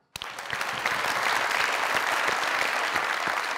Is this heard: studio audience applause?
yes